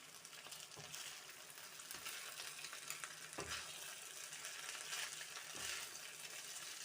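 Cooked rice being tossed with vegetables and paneer in a hot pan for fried rice, giving faint continuous sizzling with soft periodic scraping and shuffling sounds as the spatula moves, quiet and without talking.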